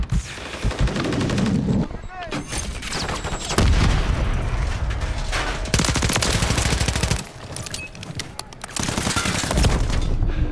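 Modern Warfare 3 multiplayer combat with bursts of automatic SMG fire and booming shots, loud and near, broken by short pauses between volleys, with a voice speaking over parts of it.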